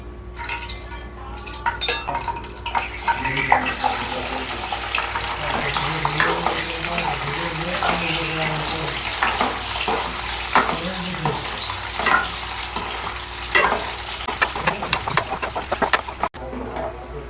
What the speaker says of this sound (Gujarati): આપણે ગુંદા ફ્રાય કરવાના છે 1-2 મિનિટ